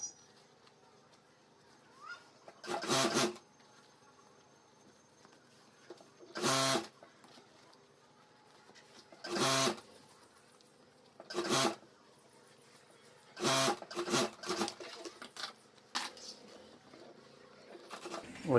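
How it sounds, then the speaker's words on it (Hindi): A sewing machine stitches school bag fabric and a rubber sheet lining in several short, rapid mechanical bursts, separated by quiet pauses, close and fairly loud. "तो यहाँ मैं सिलाई कर देता हूँ।"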